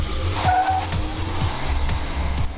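A 2014 Kia Cadenza with a six-speed automatic is floored from a standstill, its engine note steady and fairly loud, with tire squeal and clear upshifts coming at regular intervals as it pulls away.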